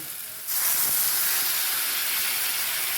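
Water poured into a hot pan of frying masala for a cabbage and fish-head dish sets off a sudden loud, steady sizzle that keeps hissing to the end, close by and without talk.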